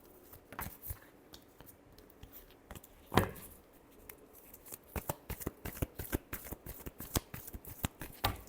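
Tarot cards are shuffled by hand in quick, crisp riffling bursts, with one sharper snap early on and a denser run of card flicks toward the end, close and alone.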